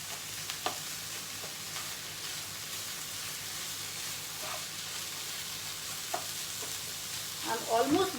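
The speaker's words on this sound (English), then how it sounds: "Keep mixing this well till you get a nice filling" Quesadilla filling being stirred in a pan, soft scraping strokes and a light sizzle that stay faint and steady throughout, with a few louder clinks and scrapes near the end.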